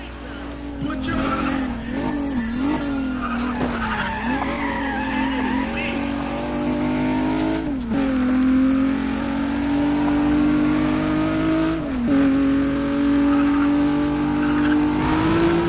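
A race car in the Need for Speed ProStreet video game on Xbox slides through a corner with squealing tires while its engine revs hard, a loud and continuous roar with rising and falling engine pitch and no pauses.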